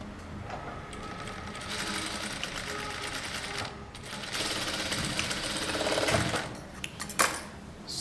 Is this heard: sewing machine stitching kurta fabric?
yes